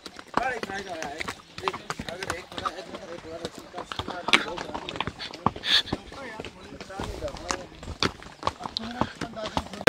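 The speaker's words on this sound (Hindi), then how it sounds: "और ये अपना घोड़ा।" Horse hooves clip-clopping along a mountain trail in Gulmarg, Kashmir, a steady irregular patter close by under near-constant talking from riders.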